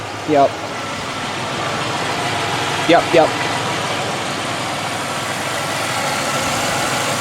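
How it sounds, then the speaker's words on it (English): A 3100 V6 engine idles steadily, a smooth continuous hum with a faint broadband hiss, and a couple of short voice bursts near the start and middle. "3100 V6 engine, very good engine."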